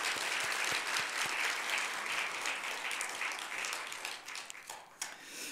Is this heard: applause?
yes